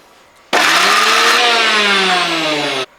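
Electric kitchen mixer grinding ginger, curry leaves and salted mango into a chutney, a loud whirring drone that starts abruptly, runs steadily for over two seconds and cuts off sharply.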